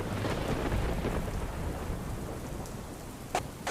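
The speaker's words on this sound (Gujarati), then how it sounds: "સુરત શહેરમાં ગઈકાલ રાતથી જે પ્રકારે વરસાદ પડી રહ્યો છે" Heavy monsoon rain in Surat pours in a dense, steady roar with a low rumble underneath, and a couple of sharper splashes near the end.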